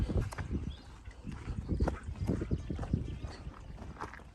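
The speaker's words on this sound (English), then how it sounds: "Got a little horse over there." A small horse on a hiking trail near Mount Rogers, Virginia, with irregular hoof clops and shuffling steps close by, moderately loud against a low outdoor rumble and no talk.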